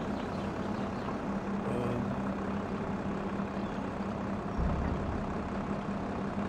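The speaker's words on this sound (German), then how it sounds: "Guck mal, da kommt der Drescher auch an" A combine harvester arrives in Farming Simulator 22 on the Elmcreek map, a steady low engine drone with a faint mechanical hum that runs unbroken throughout, close and even in level.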